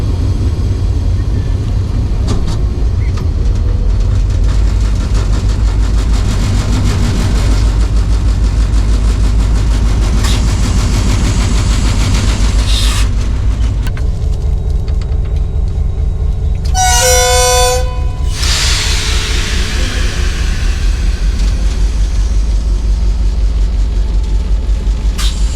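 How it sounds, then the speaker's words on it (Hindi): The Marvi Passenger train rumbles as it pulls out of a small station in the Thar Desert, a low engine drone running throughout, then a loud diesel horn blast sounds for about a second, with faint voices in the background. "रेलवे स्टेशन से रवाना हो रही है ट्रेन मारवी पैसेंजर"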